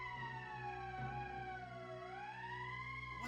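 Emergency siren in a game, a steady wavering wail that dips and rises again, faint but continuous over a low background hum.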